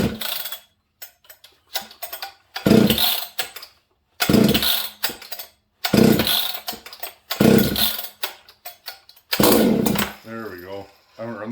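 A Husqvarna 200 series chainsaw with huge compression fires in a string of loud, choppy bursts before settling into a rougher running tone, and a voice talks between the bursts.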